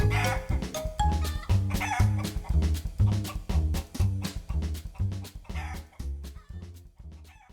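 Hen clucking sound effect in a children's storytelling podcast, steady rhythmic clucks and crowing-like calls repeating throughout over a patterned musical backdrop.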